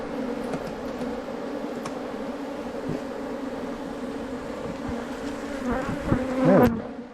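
Honey bees in a bee yard during a winter hive inspection hum in a steady dense drone, with individual bees buzzing close past near the end.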